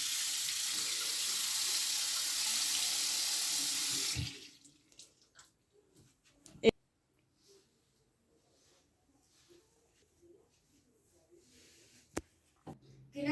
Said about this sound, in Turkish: ilk önce yemeğe başlamadan önce elimizi ve yüzümüzü yıkamalıyız